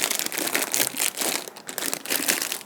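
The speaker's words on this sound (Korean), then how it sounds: "OPP 비닐채로 화기 안에 넣어볼게요." Crinkly OPP plastic film rustles and crackles steadily as a floral foam block still wrapped in it is pressed by hand into a flower container, close and fairly loud with no talking.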